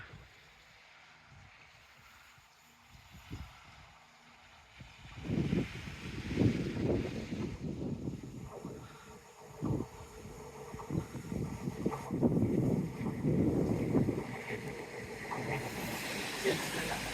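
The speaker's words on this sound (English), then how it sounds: "it's definitely more breezy on the seawall than I thought it was going to be today as well" Wind buffeting a microphone on a breezy seafront seawall at Teignmouth, a low broadband rumble that starts quiet, then swells into strong uneven gusts from about five seconds on and keeps surging.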